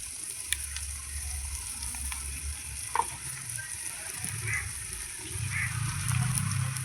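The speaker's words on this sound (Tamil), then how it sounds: "ஒரே ஒரு பச்சை மிளகா, வெங்காயத்தை வதக்கிக்கணும்." Onion and a single green chili sauté in a pan for a village-style egg curry, giving a steady, close sizzle with occasional clicks and utensil scrapes and a low rumble underneath.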